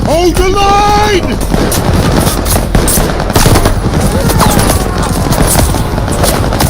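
Loud, dense machine gun fire in the World War II shooter Call of Duty: Vanguard, continuous rattling bursts with explosions and shouted voices over the battle din.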